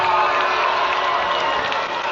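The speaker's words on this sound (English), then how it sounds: "Timpview crowd hyped up." A hyped Timpview high school football crowd roars steadily in the stands, a dense wash of cheering and applause held at a constant loud level throughout.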